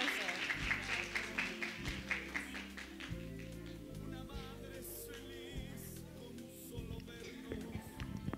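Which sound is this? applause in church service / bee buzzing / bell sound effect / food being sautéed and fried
applause in church service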